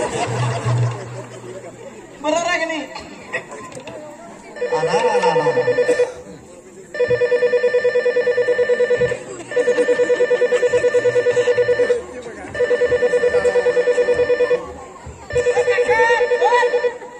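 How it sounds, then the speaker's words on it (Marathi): A telephone rings in repeated bursts with short pauses between them, while people chatter and laugh nearby. "अरे काकांचा फोन आलाय."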